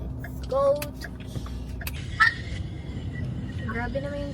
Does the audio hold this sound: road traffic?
yes